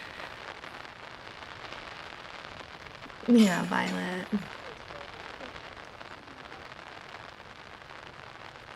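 Light rain begins falling on a disc golf course during a women's championship round, a soft, steady patter of drops spread evenly throughout, interrupted midway by a short burst of nearby speech.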